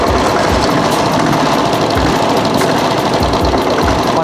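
A motorcycle engine idling after a crankshaft repair, running with a steady close mechanical clatter and periodic low thumps, loud and continuous with no talking over it.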